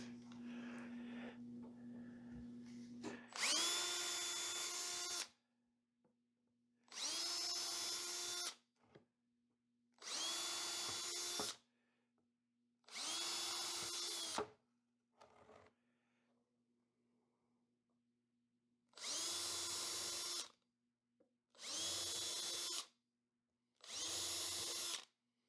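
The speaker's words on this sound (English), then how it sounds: "I think I'll pre-drill these first." A power drill pre-drills wood for 2.5-inch screws on a glued project, running in eight loud, separate bursts of a few seconds each with quiet gaps between them.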